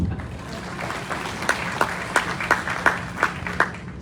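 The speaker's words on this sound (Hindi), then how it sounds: "तालियां" Light scattered audience applause with a few sharper, evenly spaced claps standing out toward the end, fairly quiet and without talk.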